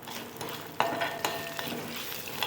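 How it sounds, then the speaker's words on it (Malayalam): Chopped shallots, curry leaves and peppercorns fry in a hot pan for a Kerala mathanga pulinkari, giving a steady close crackle with a few sharp clinks of a spoon stirring. "ഒരു നാല് ചെറിയ ഉള്ളി അരിഞ്ഞത് കുറച്ച് കറിവേപ്പില മൂത്ത് വരുമ്പോഴേക്കും രണ്ട് കുരുമുളക് കൂടെ ചേർത്ത് കൊടുക്കാം"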